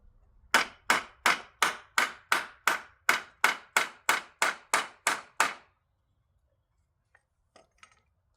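Old square nails are hammered into wood with about a dozen sharp, evenly spaced close blows in a quick steady rhythm, followed by quiet with a few faint small knocks.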